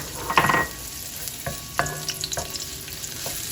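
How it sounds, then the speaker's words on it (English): Vegetables and ham sautéing in a pan with garlic, with a low sizzle under scattered metallic clinks and scrapes of a utensil and a few ringing taps, moderately close and no talking. "So now we're going to saute the vegetables and the ham."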